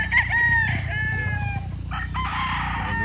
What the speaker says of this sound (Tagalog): Gwapong mga manok mga boss.